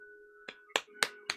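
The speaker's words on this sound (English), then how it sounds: "Sorry about the clapping, clicking it a bit." Four sharp claps and snaps spaced about a quarter second apart, close and dry, sounding over a steady low hum during a phone call.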